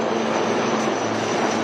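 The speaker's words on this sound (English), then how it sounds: "you can now see the advanced light helicopters Mark IV of the Indian Army known as the Rudra" Indian Army HAL Rudra Mark IV advanced light helicopter, its engine and rotor making a steady, loud drone with a constant hum and no pauses.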